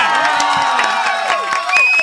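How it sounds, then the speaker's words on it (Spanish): A studio audience on a Spanish television show claps and cheers loudly and continuously, with bright whoops and shouted voices rising above the applause. "Aplauso del público"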